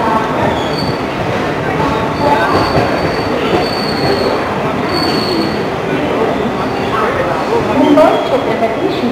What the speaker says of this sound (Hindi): अब हमारी ट्रेन पहुंच चुकी है मनमाड़।